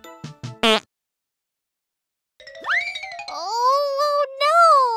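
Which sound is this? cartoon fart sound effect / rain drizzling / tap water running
cartoon fart sound effect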